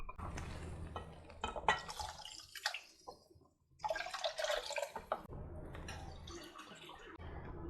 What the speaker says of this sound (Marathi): आपण कढीमध्ये पाणी घातलं ना